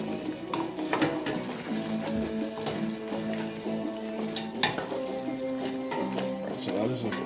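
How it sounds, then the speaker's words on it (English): Chayote goes into a hot pot of vegan coconut-milk stew, giving a steady sizzle with stirring clatter and scattered sharp clinks; musical harmonic tones run beneath throughout. "Now I'm going to put my chayote or chocha inside."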